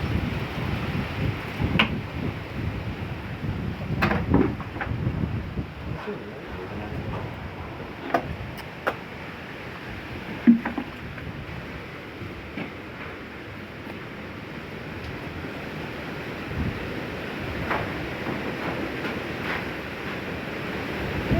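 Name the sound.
strong wind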